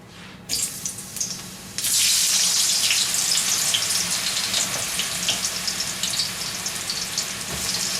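Chicken and eggplant dropped into hot ghee, bursting into a loud, steady crackling sizzle that stays bright and continuous after a brief quieter start.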